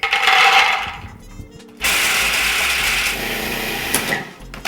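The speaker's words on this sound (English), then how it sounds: "I'm going to put them into my food processor, grind them down into small pieces." A food processor grinds raw hazelnuts, a loud rattling whir with nuts clattering against the bowl, stopping briefly before running again steadily.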